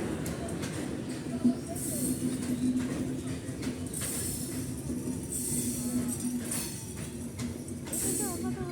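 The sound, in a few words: train arriving at station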